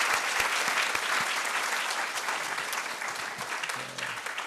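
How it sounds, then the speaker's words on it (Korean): A church congregation at an Easter morning worship service claps in encouragement, a dense, lively round of applause that eases slightly toward the end, with a faint low hum near its close. "우리 목회자들을 위해서 또 이 같이 격려의 박수 한번 보내십시다"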